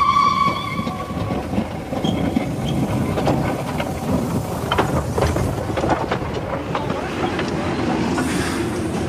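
A steady train rumble with rhythmic clacking fills an audiobook sound effect, and a brief whistle-like tone sounds at the very start.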